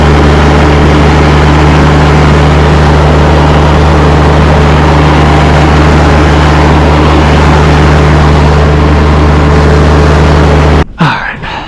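A John Deere X758 lawn tractor engine runs loud and steady with a constant low drone as the front wheels are lifted off the ground, then cuts off abruptly near the end.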